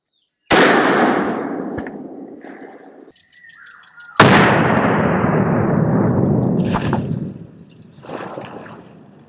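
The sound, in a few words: rifle shot fired at US Army helmet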